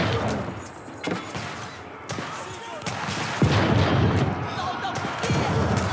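Cannon fire in an Age of Empires IV match as cannons push through a wall, repeated booming shots and impacts layered under battle noise and continuous commentator talk.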